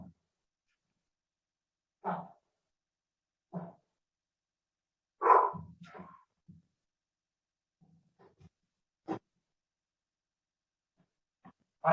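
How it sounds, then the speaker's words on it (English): A dog barks in isolated single yelps and short bursts spaced several seconds apart, fairly close against an otherwise quiet room. "It's very unlike our dog."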